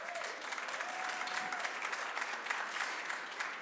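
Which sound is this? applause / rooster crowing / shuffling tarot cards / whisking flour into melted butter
applause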